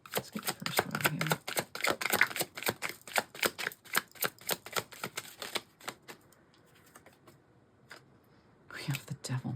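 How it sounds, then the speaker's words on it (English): Tarot cards are riffled and shuffled close to the mic in quick, soft flapping bursts, then go quiet briefly before more card handling. A voice speaks softly in the background. "we'll give it one more shuffle"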